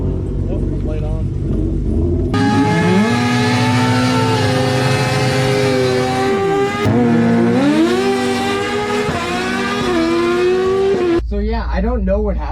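A twin-engine drag race car makes a roaring pass, its engine note rising steadily through gears over about nine seconds before cutting off, with someone talking throughout.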